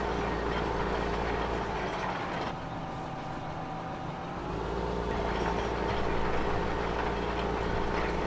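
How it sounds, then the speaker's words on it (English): A John Deere tractor engine in the video game Farming Simulator 2015 drones steadily, a continuous low idle with a brief dip in the middle and no voices. "So what do you think about this John Deere tractor?"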